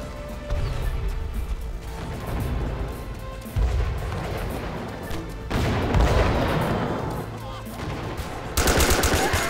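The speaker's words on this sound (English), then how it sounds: "someone's shooting." Gunfire rattles throughout a multiplayer match of the video game Joint Operations: Typhoon Rising, with loud bursts of automatic fire and heavy booms coming in waves.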